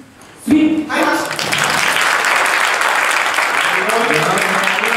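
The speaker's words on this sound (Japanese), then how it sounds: "スリーカウント入ったら全力の拍手でお願いいたします。" After a sharp shout, a wrestling event crowd breaks into loud, sustained applause at the three count. The clapping is dense and continuous and fills the hall.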